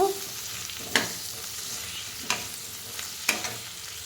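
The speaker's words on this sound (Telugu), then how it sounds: "ఇవి మంచిగా ఫ్రై చేసుకోవాలి మనం ఆయిల్లో" A low steady sizzle of brinjals frying in oil, broken by three sharp spoon scrapes against the pan at intervals.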